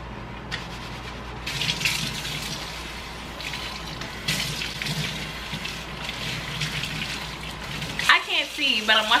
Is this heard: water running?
yes